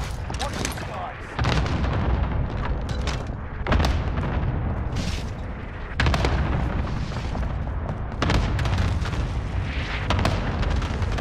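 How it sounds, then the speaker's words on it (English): Cluster strike explosions in a video game sound as repeated deep booms and rumbling blasts over about eleven seconds, loud and sustained, with voices talking in the background. "Enemy cluster strike, watch your heads"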